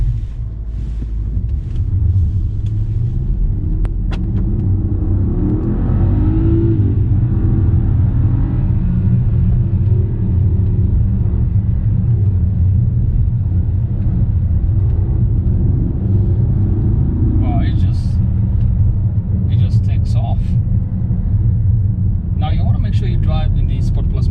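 A Mercedes-AMG GLE 63 S 4MATIC+ SUV driving in Sport Plus mode, a loud, continuous low engine rumble with road and wind noise throughout, while a person talks over it inside the cabin.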